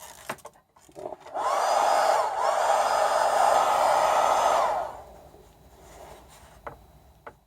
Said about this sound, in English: I think the heat gun's a fail.